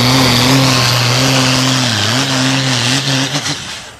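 A tractor pulling machine in the 3.6-tonne Super Sport class revs hard at the start line, a loud, close engine roar with steady low harmonics that dip and rise before fading near the end.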